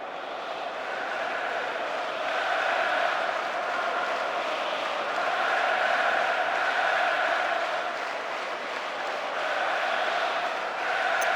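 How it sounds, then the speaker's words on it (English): A football stadium crowd at Arsenal vs Fenerbahçe in a Champions League match murmurs and chants in broad waves, a steady distant roar that swells and eases without a break. "The crowd starting to get impatient now."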